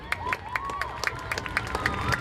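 A large crowd at a high school football game claps and cheers steadily for a marching band, with sharp individual claps and whoops rising over a dense wash of applause.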